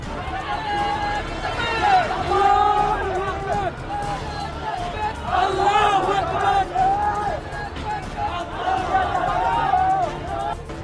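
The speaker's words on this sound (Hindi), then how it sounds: "जहां बड़ी संख्या में जिहादी पहुंचे और पहले नारे तकबीर की नारेबाजी की" Large crowd chanting Nara-e-Takbir slogans outside the Prothom Alo newspaper office in Dhaka during unrest, a loud massed roar of voices rising and falling in repeated waves throughout.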